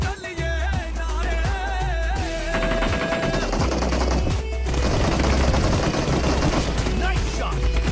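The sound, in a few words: gunfire in PUBG Mobile video game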